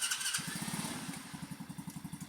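A Tao Tao ATK125 buggy engine chugs close by with a quick, even put-put pulse that sounds like a small single-cylinder motor running steadily, fairly quiet with no talk.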